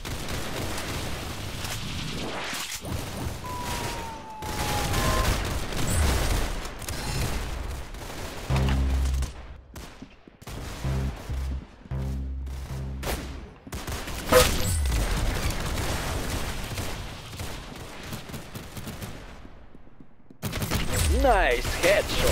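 Bursts of game gunfire from Roblox Arsenal, rapid shots and fusillades broken by short gaps, loud and close, while people talk excitedly over them.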